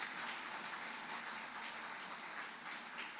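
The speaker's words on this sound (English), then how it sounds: "Could we have another round of applause, please?" A crowd at a ceremony claps steadily, a dense and even wash of applause lasting throughout with no voices on top.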